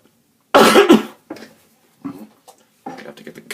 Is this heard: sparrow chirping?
no